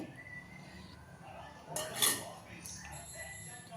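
Maida flour is tipped into a bowl in a home kitchen, a soft brief clink of dish and utensil near the middle over quiet room noise, faint and close.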